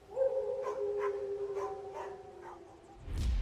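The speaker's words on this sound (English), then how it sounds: "There's something over there. Is that a dog?" A dog barking at night outdoors, a run of about six sharp barks and yelps at a moderate distance over a faint background hum, followed by a low rumbling noise at the end, with no talking.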